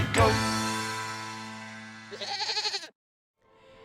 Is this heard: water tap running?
no